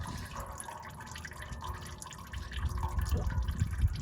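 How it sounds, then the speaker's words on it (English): Motor oil from a 2012 Ford Escape trickles and drips into a catch pan, a faint, steady liquid patter that grows slightly louder and splashier toward the end. "I got my pan below to catch the oil, and I'll just go ahead and let that run into the pan"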